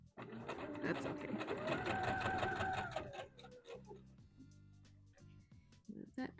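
A sewing machine stitching a seam on a wrap dress runs steadily for about three seconds, close and fairly loud, then stops, followed by faint handling of the fabric and clicks.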